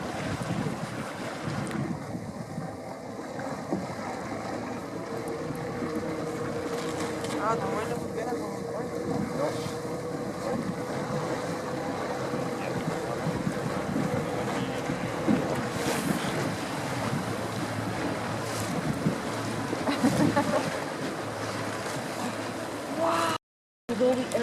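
A Zodiac boat drifts on Jökulsárlón glacier lagoon in Iceland, a steady low rumble of engine and water with wind buffeting the microphone, continuous and moderately loud, ending in a brief dropout.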